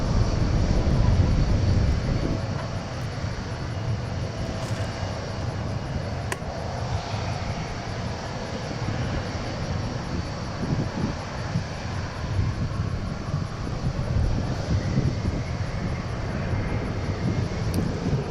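Airliner powered by Rolls-Royce RB211 engines at DFW airport, a steady broadband jet rumble heard from a distance, buffeted by gusty wind noise on the microphone throughout.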